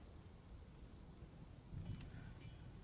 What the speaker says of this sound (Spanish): También el sonido ambiente, está lloviendo